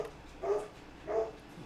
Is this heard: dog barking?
yes